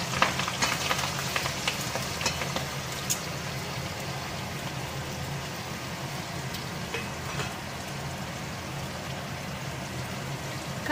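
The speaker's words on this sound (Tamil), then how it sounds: "ஆனியன், எல்லாமே பச்சை மிளகாலாம் கொஞ்சம் ஃப்ரை ஆகட்டும்" Green chilies, onion and curry leaves frying in a pan for vegetable semiya upma, a steady crackling sizzle with scattered pops and occasional stirring, moderately close and without talk.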